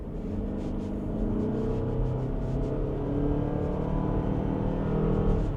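A 2025 Mazda CX-50 Hybrid accelerates hard under full throttle, and its engine gives a loud, steady drone that rises slightly as it builds speed. The drone is heard from inside the cabin and continues without a break, with no talking.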